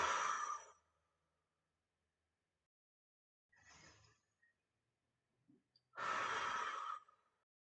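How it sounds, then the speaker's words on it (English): Deep belly breathing in a calm somatic exercise: a long audible inhale, a softer breath in the middle, then a full airy exhale, close and quiet with silence between. "just breathing deeply down into the belly, filling up the tummy balloon"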